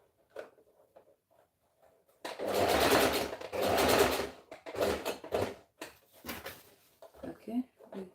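A sewing machine top stitching fabric at a quarter inch from the edge runs in two sustained loud bursts, then shorter stop-start runs, with quiet speech in the pauses between.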